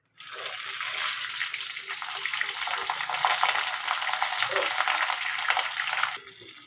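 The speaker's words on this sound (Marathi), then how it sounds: "आता आपण त्यासोबत खाण्यासाठी मिरची तळून घेऊया" Green chillies, slit down the middle, deep frying in hot oil to serve with vada pav: a steady, dense crackling sizzle that holds for several seconds, then drops off sharply near the end.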